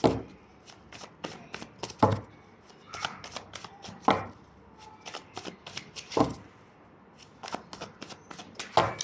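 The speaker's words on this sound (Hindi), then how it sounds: "Last shuffle." Tarot cards being shuffled by hand in repeated riffles and slaps, each burst crisp and close, with short pauses between rounds and no talking.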